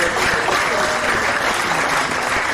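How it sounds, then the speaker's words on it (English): Dense, loud audience applause at the Samoa Exports Awards 2018 ceremony, a continuous wash of many hands clapping at once, sustained evenly throughout with a faint crowd murmur beneath. "please give her another round of applause"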